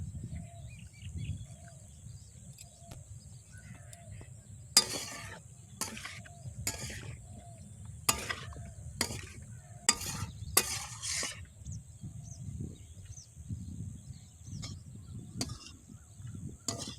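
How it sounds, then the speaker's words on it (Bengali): Potato and malabar spinach stalks being sautéed in a pan: a faint, steady low sizzle runs throughout, broken by a series of sharp scraping stirs near the middle, with soft bird chirps in the background. "আলু আর পুঁই ডাঁটাটা ভালো করে কষিয়ে নিয়েছি।"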